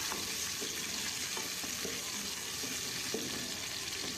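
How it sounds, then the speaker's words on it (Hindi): Sliced onions fry in hot ghee in a pan, giving a steady, dense sizzle with faint stirring scrapes, close and continuous with no voices. "प्याज जब तक सुनहरे कलर नहीं आ जाता तब तक फ्राई करूँगी।"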